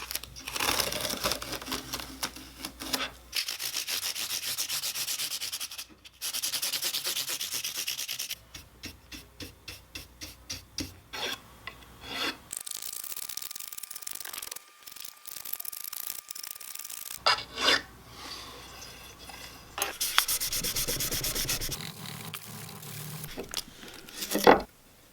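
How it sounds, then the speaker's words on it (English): Sanding strokes rasp across the wooden fretboard of a handmade cigar box guitar, a steady close-up scrubbing in long bursts broken by short pauses and a quicker rhythmic patch, with no talking. "When I sanded the fretboard,"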